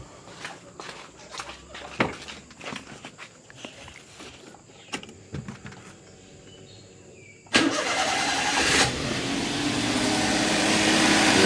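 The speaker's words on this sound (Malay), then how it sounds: "Kita dah start kereta." A Perodua Kancil engine cranks and catches after clicks and handling noises, then settles into a loud, steady close idle that builds slightly.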